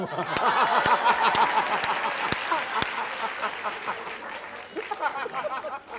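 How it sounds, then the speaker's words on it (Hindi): A studio audience at a political comedy show claps in a light, scattered burst that fades over several seconds, with a few chuckles and a voice over it. "इस बात के लिए तालियां हैं"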